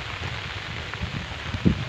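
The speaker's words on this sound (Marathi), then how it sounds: "हा बघा अक्षरशः इकडं प्रचंड पाऊस आहे." Heavy rain pours down on the Konkan countryside in the evening, a dense steady hiss with patters of drops close by, continuous and fairly loud.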